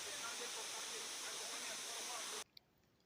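Steady, dense rushing roar of a waterfall pouring down a mountainside in the Pothigai hills, loud and unbroken for over two seconds before cutting off abruptly to near silence.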